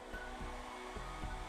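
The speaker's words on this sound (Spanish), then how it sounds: "se me ocurrió la idea del uso del secador de pelo" A household hair dryer blows hot air in a steady, continuous whoosh with a low hum, close by and alone.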